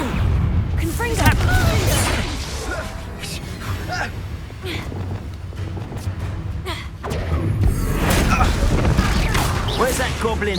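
Confringo blast spell in the Hogwarts Legacy video game, heard as repeated booming thuds and crashes amid dense combat effects, with a voice speaking over parts of the fight.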